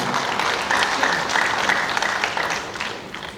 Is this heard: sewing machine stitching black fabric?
no